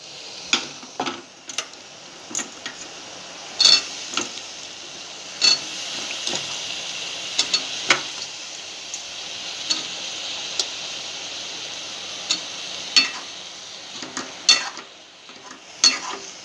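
Drumstick and potato curry sizzles softly in oil while a spoon stirs it, sending sharp scraping clicks at an irregular rhythm over a quiet, steady frying hiss.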